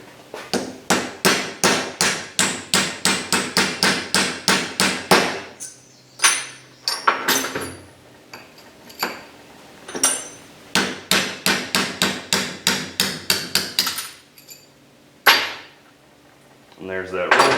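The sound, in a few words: hammering roll pin out of differential carrier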